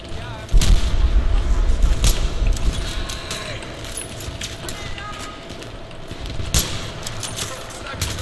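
Explosions and gunfire in the PC game Battlefield 3, a heavy booming blast near the start followed by scattered sharp shots and rumbling battle noise throughout, with a voice speaking over the action.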